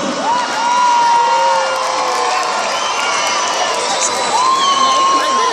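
A live concert audience in Tangier cheers and whoops loudly, with shrill shouts and sustained crowd roar throughout, and a performer's voice talks over the crowd.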